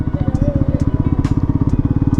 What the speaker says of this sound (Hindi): इंजन तो बहुत अच्छे से पुल हो रहा है थर्ड गियर पे